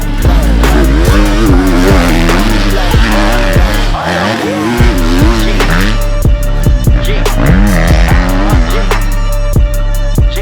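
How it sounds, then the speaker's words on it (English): A 2024 Husqvarna FC250 Rockstar Edition four-stroke dirt bike rides a motocross track, its engine loud and close throughout, rising and falling through gears with sharp revs and a brief dip midway. "we have an epic track today to break in the new 2024 Husqvarna FC250 Rockstar Edition"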